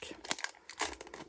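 Crinkling of a Pokémon Scarlet booster pack wrapper being handled and torn open, in several close, sharp bursts separated by short pauses.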